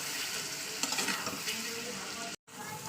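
Chicken masala frying and being stirred in a pan, a steady close sizzle with spatula scrapes, briefly cut off near the end.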